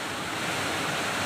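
Courtallam falls in Tenkasi district surges as a flash flood after heavy rain, a dense, loud, unbroken roar of rushing water filling the scene with no voices.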